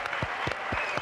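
A studio audience on a French TV entertainment show claps in a steady, rhythmic beat, with the individual claps evenly spaced and fairly close over a bed of crowd noise.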